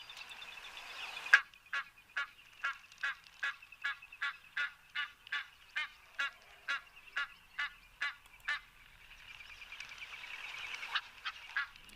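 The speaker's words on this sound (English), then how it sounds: "enjoy sounds of the Egyptian geese" Egyptian geese honk outdoors in a long, evenly spaced series of loud, nasal calls, about twenty in a row, with a few rapid honks after a brief pause and no talk.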